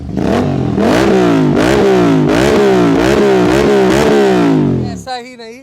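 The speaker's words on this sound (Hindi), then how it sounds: "पहले आप इस बाइक की आवाज़ सुन लो।" A twin-cylinder superbike engine roars loudly through its exhaust, revving repeatedly in rising and falling surges with a throaty, pulsing tone, close by, before cutting off at the end.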